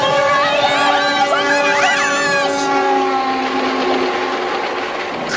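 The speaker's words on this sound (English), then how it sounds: "it's a big train coming right at us" A large train rumbles close by, its horn blaring in long harmonic blasts that bend in pitch as it passes, with steady rolling noise beneath.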